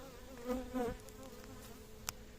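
Honey bees buzz at a beehive, a close, faint steady drone with a couple of louder swells as single bees pass near.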